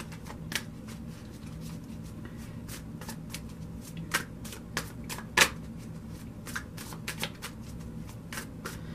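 Tarot cards are shuffled and drawn by hand in a quiet room, giving a steady run of soft riffling flicks and crisp card snaps, one sharper slap standing out midway.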